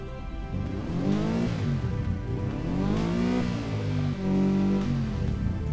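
A car engine in the BeamNG driving game revs up and down repeatedly with a grumbly, rumbling exhaust, rising and falling in pitch in several sweeps, loud and close with no talking.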